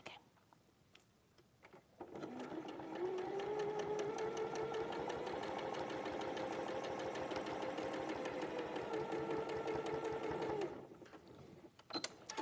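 A sewing machine stitches quilt pieces in one steady, fast run lasting about eight seconds, with a faint rising whine as it speeds up. It is close and loud, with brief handling sounds before and after the stitching.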